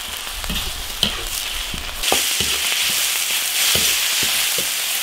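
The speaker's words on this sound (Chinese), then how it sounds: "把牛肉水分先炒干炒香。" Beef stir-fries in an iron wok with a steady loud sizzle, punctuated by scraping and clanking strokes of the spatula against the pan.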